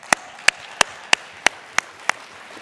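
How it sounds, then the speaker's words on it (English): An audience at a trade union world congress plenary session claps in slow, even unison, seven sharp claps spaced about a third of a second apart over a faint hall murmur. "She can have an applause."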